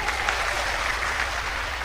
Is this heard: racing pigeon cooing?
no